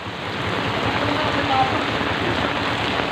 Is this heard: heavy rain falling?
yes